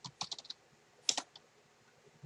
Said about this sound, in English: So we're going to type application, if I can learn how to type